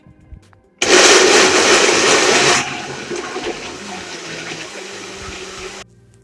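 A blender whizzes up a green smoothie with spirulina powder, a loud, close motor roar that starts suddenly, drops to a lower whir after a couple of seconds, then stops.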